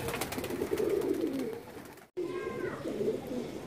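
A yellow-eyed pigeon coos in soft, low, rolling phrases close by, with a brief cut midway and faint chirps from other birds.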